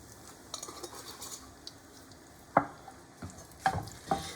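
Garlic sautés in a pan for a pizza tomato sauce, a soft sizzle under close, irregular scrapes and knocks of a utensil stirring against the pan, with several sharper clacks toward the end.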